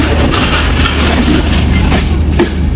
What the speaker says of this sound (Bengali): আমাদের ট্রেন ছেড়ে দিচ্ছে টাইম মতো